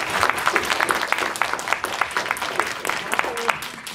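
A debate audience applauds steadily, a dense patter of many hands clapping throughout, moderately loud and fairly close, with a voice briefly audible beneath it.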